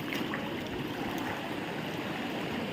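Steady rushing of river water flowing, a continuous broad wash with no voices, close and fairly loud throughout.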